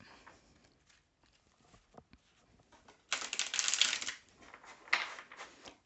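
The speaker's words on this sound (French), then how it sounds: "Alors, on va prendre le tarot. Je vais mélanger." A tarot card deck is shuffled in two bursts of dense, papery riffling, the first loud and about a second long, the second shorter, with soft handling rustles before them and no talk.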